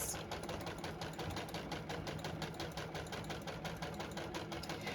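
A JUKI sewing machine stitches a fabric seam with about a 3/8 inch seam allowance on a binder zipper bag, running in a steady, rapid, even rhythm of needle strokes at a moderate distance.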